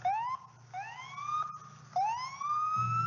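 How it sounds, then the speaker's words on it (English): A wailing siren rises and falls in repeated sweeps, somewhat faint and distant over a low background hum. "the silence was drowned out by the sound of distant sirens"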